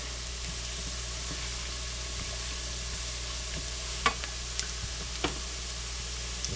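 Meat and onions for deer camp chili sizzle steadily in a pan on high heat while being stirred, with a constant frying hiss and a few faint scraping clicks from the spoon, close and with no talking.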